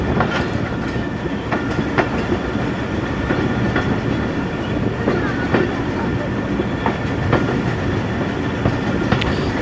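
A freight train passes along the railway near Sialkot Junction in Pakistan, loud and close, with steady rumbling and repeated clickety-clack wheel beats throughout.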